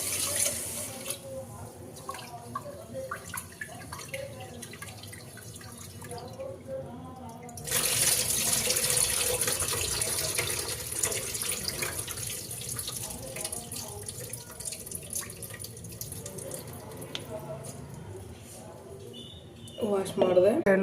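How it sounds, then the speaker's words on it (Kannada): Rice grains being washed under a running kitchen tap, water streaming into a sink; the flow is quieter at first, then becomes a louder, steady rush partway through, with faint background sounds. "ಇವಾಗ ಅದನ್ನ ವಾಶ್ ಮಾಡ್ತೇನೆ. ಇವಾಗ ವಾಶ್ ಮಾಡ್ತಾ ಇದ್ದೀನಿ."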